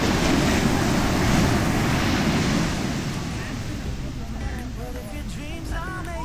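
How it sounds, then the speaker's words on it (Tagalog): Strong surf rolling in at Vanilla Beach in El Nido, a loud, continuous wash of breaking waves with wind buffeting the microphone, steady throughout. "Sobrang lakas ng alon ng gantong oras dito guys."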